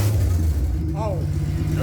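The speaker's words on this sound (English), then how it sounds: "Give it a little rev." Ford Falcon six-cylinder engine fitted with a Pacemaker exhaust, idling with a deep, steady low rumble and a brief light rev swelling midway, while people talk nearby.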